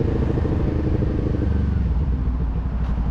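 Loud, close Kawasaki Ninja 400 motorcycle engine rumbling steadily as it rides, a throbbing low growl with slight shifts in pitch and no speech.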